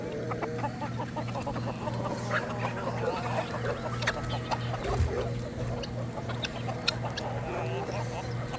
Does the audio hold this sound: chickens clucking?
yes